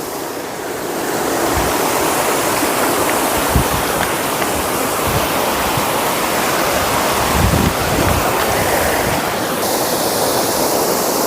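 Water pours over Dantiwada Dam in a broad, waterfall-like torrent, a loud, steady roar with a constant hiss. It rises at the start and then holds unbroken to the end, with no voices.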